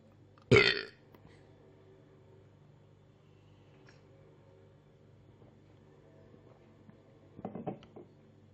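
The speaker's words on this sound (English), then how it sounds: "if I burp, sign of a good beer" A loud, close burp after drinking a hop-heavy beer, one short burst near the start followed by quiet room tone and a few faint clinks later.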